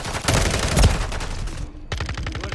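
Rapid sustained automatic gunfire from Call of Duty: Modern Warfare III, loud and dense, with a brief break near the end before bursts resume.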